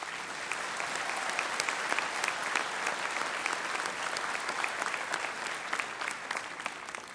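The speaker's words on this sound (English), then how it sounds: "So if you will join me in giving applause to all of these graduates" Sustained crowd applause for graduates at a commencement ceremony, many hands clapping in a dense, even roar that holds at steady loudness for several seconds.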